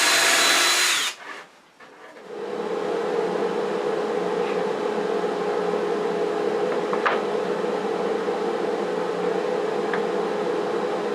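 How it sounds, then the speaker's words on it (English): A hand drill bores a small hole, a little over a quarter inch deep, into a wooden chess rook on a woodturning project. After a short pause it settles into a steady, close whirring hum that runs to the end, with no talking. "it's easier for me to line this up in the hole inside here by using a hand drill"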